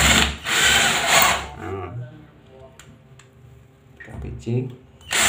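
A power drill drives screws into a bathroom door hinge in loud, whirring bursts, at the start and again near the end, with someone talking close by in between.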